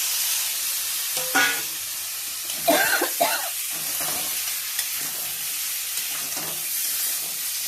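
Potatoes with turmeric frying in hot oil give a steady, fairly loud sizzling hiss, broken by a few louder stirring scrapes and bursts of spatter.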